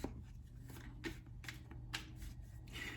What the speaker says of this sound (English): I'm going to shuffle the cards a few times, and then I'm going to pick one.